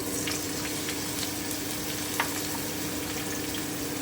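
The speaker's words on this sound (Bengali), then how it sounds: "এবারে আমি ঝিঙেটা দিয়ে দিচ্ছি" Ridge gourd frying in hot oil with green chilli and black cumin over lowered heat: an even, continuous sizzle and fizz fills the whole stretch, with one brief utensil tap partway through.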